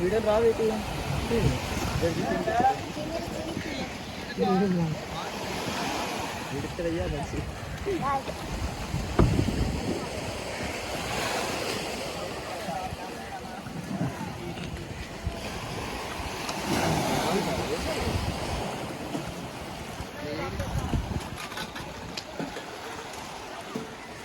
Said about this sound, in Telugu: మేమైతే ఇప్పుడు బయటకే వెళ్ళిపోతున్నాం ఇంజన్ స్టార్ట్ చేసుకుని